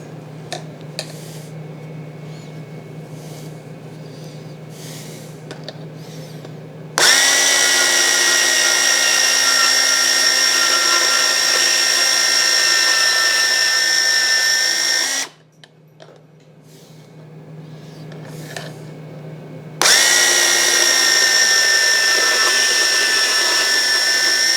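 A power tool cuts pieces for a belt grinder build, its high, steady whine running loud for several seconds, pausing, then starting again, with a low hum in the quieter gaps.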